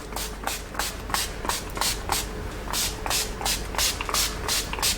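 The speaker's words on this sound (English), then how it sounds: "I'll just set that today with my Urban Decay All Nighter Makeup Setting Spray." Urban Decay All Nighter makeup setting spray is pumped in a quick series of about a dozen short, close hissing spritzes in an even rhythm.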